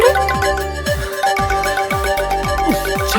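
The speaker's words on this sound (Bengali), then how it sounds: "এই কার ফোন রে?" A mobile phone ringtone rings loudly in a film scene, a bright melodic phrase repeating several times in quick succession with no talking over it.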